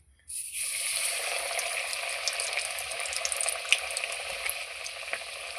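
Coated chicken drops into hot white oil in a kadai and at once sets off a steady, bright sizzle and crackle that carries on evenly, close and fairly quiet, with no voices.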